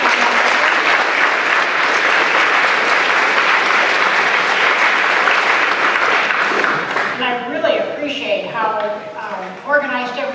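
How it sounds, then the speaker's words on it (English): Audience applause at a Seattle City Council District 3 candidate forum: dense sustained clapping for about seven seconds, fading into scattered claps as a voice begins talking over the tail. "I think another round of applause."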